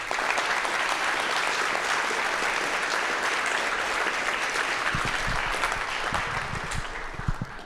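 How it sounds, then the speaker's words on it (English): Sustained audience applause at a graphics conference (HPG 2024) for a paper award, a dense steady wash of many clapping hands filling the room, loud throughout and thinning toward the end. "congratulations, and maybe some applause is in order here"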